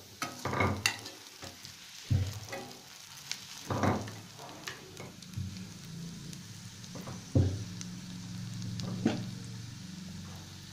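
Onions sauté in oil with green chili and curry leaves, giving a soft, steady sizzle. Sharp spoon scrapes and stirs cut through it every couple of seconds at close range.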